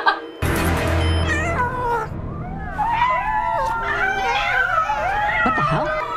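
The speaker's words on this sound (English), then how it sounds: "Why is there lots of cats?" Many cats meowing and caterwauling at once, a loud, dense chorus of overlapping rising and falling cries that starts abruptly after a short quiet moment and continues without a break.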